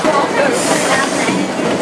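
An Isle of Man train running between Ramsey and Douglas rumbles steadily from inside a carriage, a continuous loud rolling clatter with some murmuring voices mixed in.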